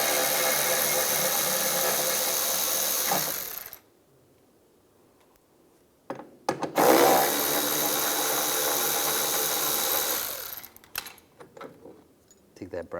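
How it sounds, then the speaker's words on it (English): A 10mm socket wrench, likely a power driver, spins out bumper bracket screws on a 2007-2013 Chevrolet Silverado in two sustained loud whirring bursts separated by a quiet gap, ending with rattling handling noises. "Take these 2 screws out, use a 10mm socket."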